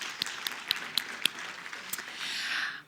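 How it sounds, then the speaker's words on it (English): At an energy investment conference, a handful of separate, spaced claps ring out for the Minister, then swell briefly into a soft, blended round of applause before fading. "Another round of applause for the Minister."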